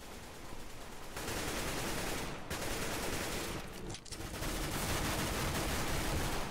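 Sustained rapid gunfire from a Counter-Strike: Global Offensive team deathmatch on the Aztec map, loud and dense throughout with brief dips, no voices.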